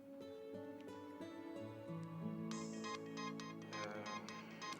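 A phone ringtone plays a melodic electronic tune for a personal call in an office, steady and fairly loud, with a brighter chiming layer joining partway through and no talk over it.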